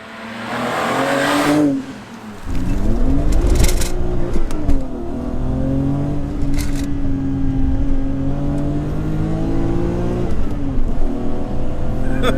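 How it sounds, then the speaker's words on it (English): A BMW E34 M5 with a 3.6L engine accelerating hard, its loud engine note climbing and dropping through gear changes, then pulling steadily with rising revs, heard from inside the car. "You start ragging the car, it's totally different."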